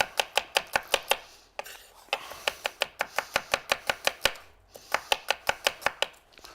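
Knife slicing ingredients very thinly on a cutting board for beef Wellington, rapid evenly spaced chops in quick bursts with brief pauses, close and crisp.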